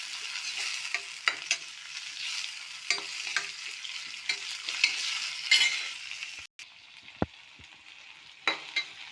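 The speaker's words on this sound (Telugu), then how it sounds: "టమాటా కొంచెం బాగా వేగింది" Tomatoes fry in a pan with a soft, continuous sizzle, broken by repeated scraping and clicking stirs of a utensil against the pan, close up and with no talking.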